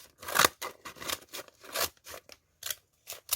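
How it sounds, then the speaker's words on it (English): Scissors snip through a brown paper bag in a quick series of close, crisp cuts with short pauses between, no voices present. "so I'm just going to cut it off there"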